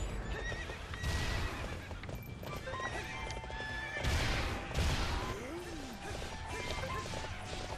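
A horse whinnies loudly in the video game Hyrule Warriors, played in co-op, amid galloping clip-clop hooves, crashing hits and busy battle effects.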